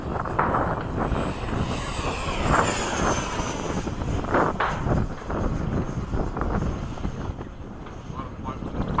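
An F/A-18 jet in a flight video game holds a continuous engine drone with whooshing wind-like swells, while a person talks over it now and then.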